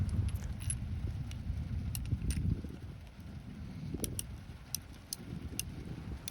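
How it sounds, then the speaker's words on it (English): Faint metallic clicks and light clinks come from cartridges being loaded into an 1873 single action revolver and its cylinder being rotated, scattered sharp ticks over a low background hum. "you can insert the cartridges, rotate the cylinder, rinse and repeat"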